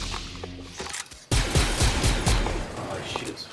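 Rapid automatic fire from a new weapon in Fortnite, a burst of close, loud shots starting abruptly after a quieter opening and continuing densely to the end, with a voice talking underneath.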